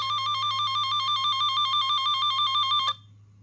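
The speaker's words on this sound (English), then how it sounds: "then it switches to that alternating tone." An AliExpress cable tracker toner emits a loud, close warble rapidly alternating between two pitches, steady for about three seconds before cutting off abruptly.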